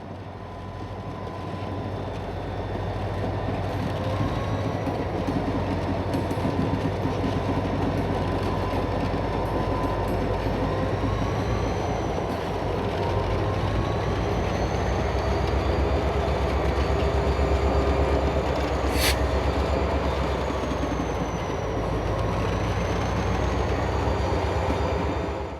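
A CSX freight train passes steadily for the whole stretch, a continuous loud rumble of locomotive and rolling railcars with faint clickety-clack and no talking.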